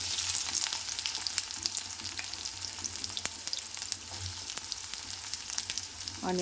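Onions frying in hot oil with green chillies, a steady close sizzle with occasional stirring clicks and utensil taps throughout, no talking.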